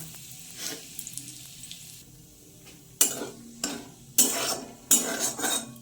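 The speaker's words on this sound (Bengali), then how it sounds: "তেল গরম হয়ে গেছে, এবার দিয়ে দেবো গোটা জিরে, একটা তেজপাতা, শুকনো লঙ্কা।" Whole cumin seeds, a bay leaf and dried chillies sizzle in hot oil in a kadai, with a few sharp bursts of crackling spitting as they hit and clinks of a utensil between quieter stretches.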